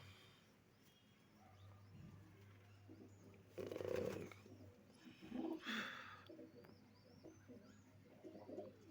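Soft cooing of pigeons in a quiet outdoor space, a few low calls rising around the middle, with a faint steady hum underneath.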